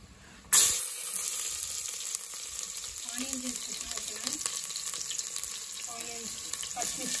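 Bay leaf and whole spices such as cinnamon frying in hot oil for a Telugu granny-style chicken fry, a steady close sizzle starting abruptly and continuing throughout, with faint scraping or stirring sounds along the way.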